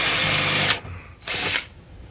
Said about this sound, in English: I tend to use the cone step drill, which allows me to choose the size of hole I want.